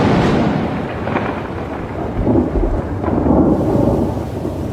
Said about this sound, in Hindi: और आखिरकार आसमान में काले बादल दिखाई देने लगे हैं। बरसात आ चुकी है।